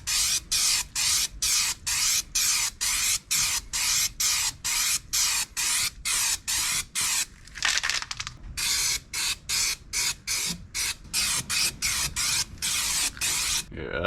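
An aerosol spray can lays undercoat on a car's underbody and wheel well in a rapid series of short, loud hissing bursts. One longer spray comes near the middle, with brief pauses between bursts and no talking.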